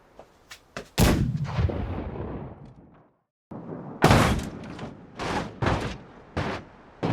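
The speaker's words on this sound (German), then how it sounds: "Welcher gehirnamputierte Volllack hat die Kanone abgefeuert?" A cannon fired as a salute gives a series of loud, sharp booms with ringing decay, a few small pops first, then one big blast, a brief silence and several more heavy shots close by.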